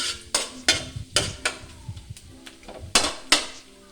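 Sautéed garlic and onion being stirred in a pan for homemade chop suey, a spoon clanking sharply against metal in irregular knocks and scrapes over a faint sizzle.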